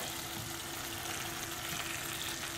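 Fried pomfret goes into Goan cafreal masala in a hot pan, giving a steady, dense sizzle that holds at an even level throughout, with no voices.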